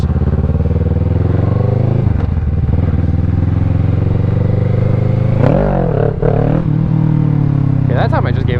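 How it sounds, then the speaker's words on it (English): A motorcycle engine drones loudly and steadily during wheelie practice, then revs up sharply around the middle as the throttle opens, followed by more rises and falls in pitch and a scrape near the end. "that time I just gave it a good amount of throttle and it came right up"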